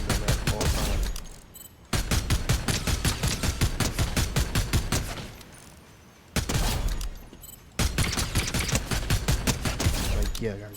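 Assault rifle gunfire in the Fortnite video game, rapid bursts of automatic shots in several long volleys separated by brief pauses, loud and close.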